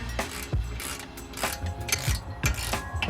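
Ball joint separator being tightened on an Audi B7 A4 suspension, a ratchet clicking in quick bursts with a few heavier clunks and creaks, close up and without talk.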